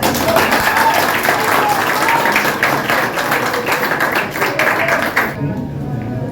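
Audience at a hospital administrator's installation ceremony in Haiti giving loud, sustained applause with many hands clapping close by, which stops abruptly near the end, leaving a quiet room.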